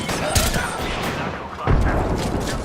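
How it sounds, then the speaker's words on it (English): A knuckle cluster strike in a video game sets off a dense, loud barrage of rapid gunfire and booming blasts that rolls on without a break, with a second heavy burst near the end. "Deploying me knuckle cluster."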